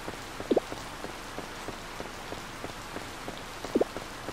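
Steady soft rain falls in the Harvest Moon Light of Hope video game, a quiet constant patter with two brief brighter chime-like blips standing out, no talking.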